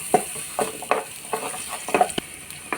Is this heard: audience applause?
no